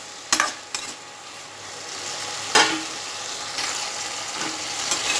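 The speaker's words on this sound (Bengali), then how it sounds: "এইবারে গ্যাসটা বাড়িয়ে দেব, বাড়িয়ে বলতে মিডিয়ামে দিয়ে আমি জিনিসটা ফ্রাই করব" Drumstick flowers, potato and eggplant fry in a pan over a medium flame, making a steady sizzle punctuated by a few sharp clanks and scrapes of a spatula against the pan, with no voices.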